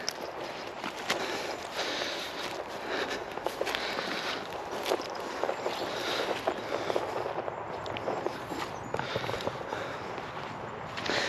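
Footsteps tread steadily through soft, boggy ground on an abandoned farm, a continuous crunching and squelching rhythm close by with scattered sharper thuds and no talk.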